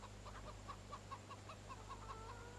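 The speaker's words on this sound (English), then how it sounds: "This is actually our chickens, by the look of it." A run of soft, evenly spaced clucks from chickens in Farming Simulator 17, on the Estancia Lapacho map, over a steady low hum; the clucks are modest in level and no one speaks.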